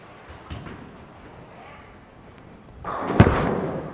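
A Storm Absolute bowling ball thunders down the lane and crashes into the pins, a faint rolling rumble followed by a loud burst of impact near the end.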